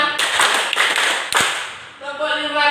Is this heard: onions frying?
no